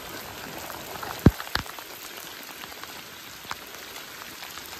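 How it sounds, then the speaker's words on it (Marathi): Heavy rain falls steadily on surfaces outdoors, a dense continuous patter with a couple of sharp knocks early on and no talk. "पाऊस आला त्याच्यामुळे मित्र लई जोराचा पाऊस आला"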